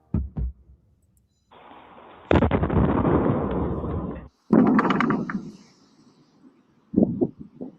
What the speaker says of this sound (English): Those explosions coming from space after a 3-foot wide meteor entered the atmosphere near Massachusetts and New Hampshire